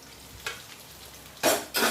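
Food frying in a pan on a home gas stove gives short sizzling bursts as it is stirred, two louder hisses near the end over a quiet background.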